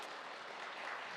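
Church congregation clapping for a newlywed bride and groom during a Sunday service, a short, faint, steady wash of applause with no voices over it.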